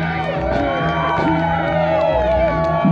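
A wrestling crowd in Lumby cheers and shouts throughout, a close, steady roar of many voices with whoops rising over the babble.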